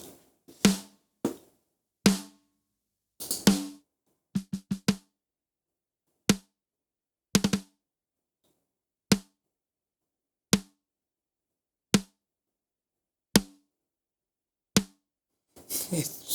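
Dry snare drum hits played back in a mix without a transient designer, sharp isolated strikes spaced irregularly at first, then at a slow steady interval, each a short clicky crack with quick decay.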